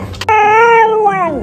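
A corgi lets out a single drawn-out, whiny vocal sound close up: a rising, tonal howl that holds steady and then bends downward at the end, after a brief scuffle at the start.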